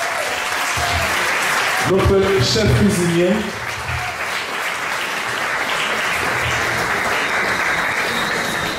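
An audience at a studio inauguration in Guadeloupe claps steadily throughout, a dense wash of applause with a voice speaking briefly over it near the start.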